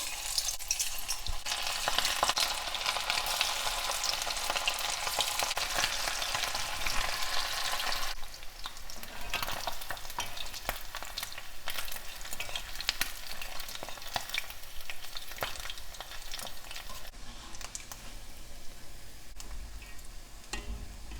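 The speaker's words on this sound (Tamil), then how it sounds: "இப்போ ஆயில் நல்லா ஹீட் ஆகிடுச்சு. மீன் போட்டு ஃப்ரை பண்ணிக்கலாம்." Anchovies fry in hot oil, a dense continuous crackling sizzle that runs for about twenty seconds, louder at first and settling slightly softer, close up with no voices.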